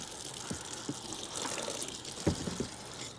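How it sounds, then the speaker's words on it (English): Water spraying onto the roof of a van being tested for leaks around lap sealant and roof fans, a soft steady hiss of spray with a few brief splashy bursts, fairly faint throughout. "I'm gonna get the whole ceiling wet. The whole roof of the van wet."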